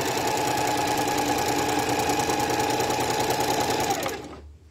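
A sewing machine stitches fabric with a fast, even, close mechanical whir for about four seconds, then stops abruptly, leaving near silence.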